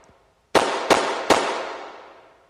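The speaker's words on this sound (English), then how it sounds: "The shotguns echoed through my ears." Three loud shotgun blasts ring out in quick succession in The Bunny Boiler, each sharp crack followed by a long, echoing reverberant tail that fades slowly.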